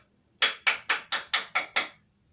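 Seven quick, evenly spaced knocks like wood being struck ring out sharply and close, each with a short decay, in a quiet setting with no talk.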